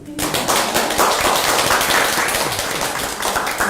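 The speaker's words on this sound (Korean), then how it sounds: "그래서 너무너무 감사한데 우리 박수." Indoor applause for daycare teachers at a childcare centre: a crowd claps loudly and steadily for several seconds, dense rapid hand claps close by.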